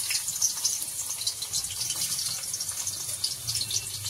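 Garlic fries in hot oil for vegetable chow mein, giving a close, steady hissing sizzle with fluttering crackles throughout.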